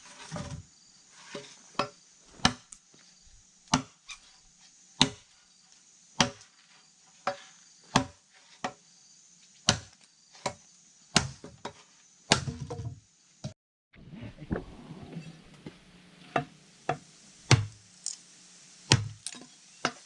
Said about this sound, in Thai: เรามาตัดไม้ เพื่อที่จะก่อไฟกันเลยดีกว่าครับ